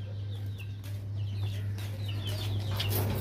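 Pet hens cluck in short, scattered calls close by, over a constant low electrical hum.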